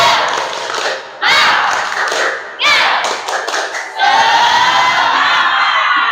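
A classroom group performs the Indonesian 'tepuk semangat' clap chant, loud bursts of rhythmic clapping in patterned sets alternating with voices chanting together, close and lively.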